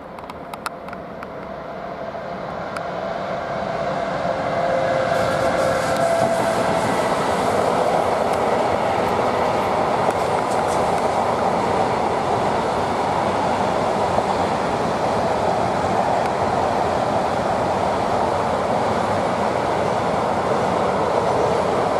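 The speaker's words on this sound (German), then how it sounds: "Haben wir jetzt den nächsten Railjet Richtung Brenner." A Railjet passenger train on the Brenner line approaches and passes close by, building from a distant rumble into a loud, sustained roar with rhythmic wheel clatter that holds steady to the end.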